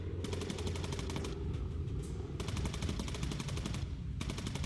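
Rapid machine-gun bursts from a bomber's rear gun turret in the World War II video game Bomber Crew, several sharp rattling volleys separated by brief pauses, steady and fairly close.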